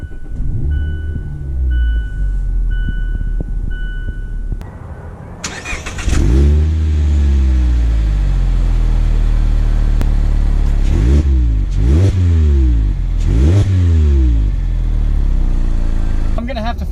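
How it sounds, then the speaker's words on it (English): A 2019 Mazda MX-5 Miata with a manual gearbox accelerating on a drive, engine revving up through rising sweeps with brief dips between gear changes, loud and close inside the cabin after a quieter idle opening. "let's take it out for a drive quickly just to see how this new 2019 Miata with the extra power boost"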